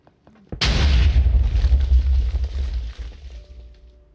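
A single loud explosion in TerraFirmaCraft, a Minecraft mod video game, with a sudden close blast followed by a long, heavy rumble that slowly fades out. No one talks.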